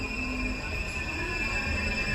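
The Jammu Mail passenger train rolls along the rails with a continuous rumbling drone and a high steady whine, close and sustained for a couple of seconds with no speech.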